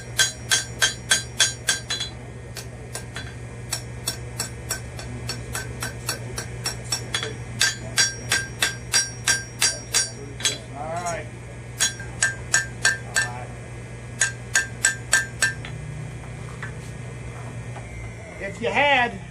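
Hammer blows ring on hot metal while a colonial-style candleholder is forged, coming in quick bursts of sharp, bright strikes with pauses between them over a steady low hum. The blows are close and loud.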